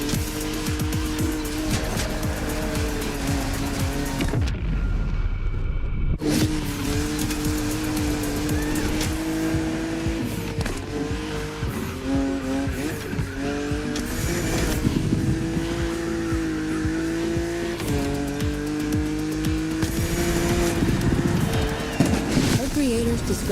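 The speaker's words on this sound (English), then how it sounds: "I own the car you're driving." Car engine droning steadily on an open road in The Crew Motorfest, a sustained loud hum with shifting pitch and a brief dropout, while voices talk over it.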